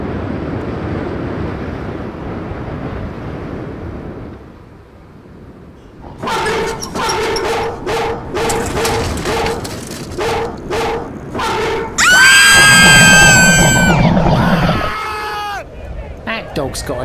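A fast dog barks in short repeated bursts outdoors, then breaks into high-pitched yelps and whimpering cries, with faint wind and background noise between the barks.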